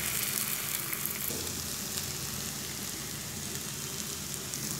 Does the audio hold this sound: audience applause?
no